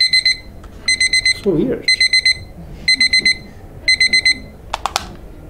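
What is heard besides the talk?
alarm clock ringing in a classroom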